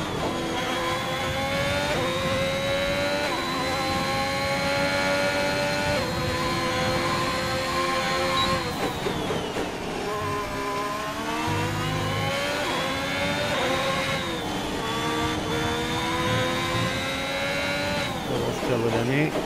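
Race cars lapping a track with a Ferrari close behind on a flying lap, a loud continuous engine note rising and falling in pitch through gear changes, under commentators talking throughout.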